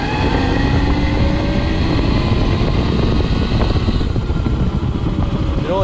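Electric-converted 2022 KTM 250SXF dirt bike with a QS138 motor on a test ride, running on low current; a steady, loud whirring drive sound with wind rush and rattle that continues throughout.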